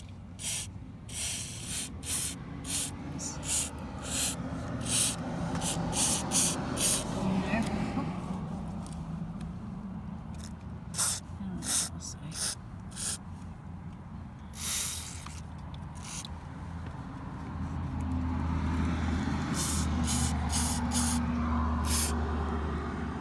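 WD-40 sprayed onto the hinge of a squeaky car door, heard as a run of short, sharp hissing bursts over a low rumbling background, with a longer steady hiss near the end.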